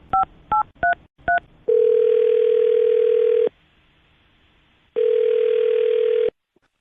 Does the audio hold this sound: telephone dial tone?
yes